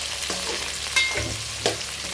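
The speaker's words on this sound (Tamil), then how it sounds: "வெங்காயத்தை நல்லா வணக்கணும்" Onions sauté in a pan with a continuous crackling sizzle, broken by a couple of sharper stirring scrapes, close and moderately loud, with no talking.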